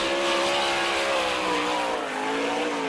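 A single Eagle chassis sprint car, number 18 with Pro Shocks, runs a fast solo lap at the Gibsonton, Florida Winter Nationals, its loud high-pitched engine holding a steady, rising and falling wail with no talk over it.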